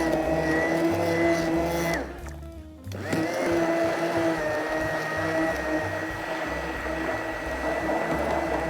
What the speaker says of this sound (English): let the blender grind it up.